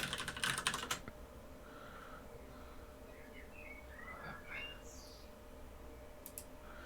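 Keystrokes on a computer keyboard clatter in a quick burst near the start, then a few scattered taps follow over a quiet room background.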